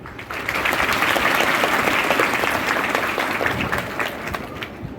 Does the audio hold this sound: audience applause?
yes